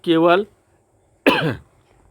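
Two separate coughs, a short harsh one then a second rougher cough about a second later, close and fairly loud, with quiet between them.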